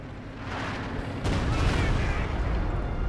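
B4 howitzer artillery fire in Company of Heroes 2, a sharp heavy boom partway through followed by a rumbling, crackling tail, with battle noise beneath.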